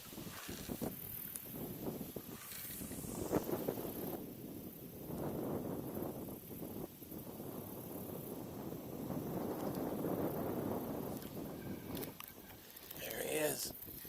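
Wind buffeting a small micro boat while bass fishing, gusty rumbling microphone noise rising and falling with water splashes, under faint talk.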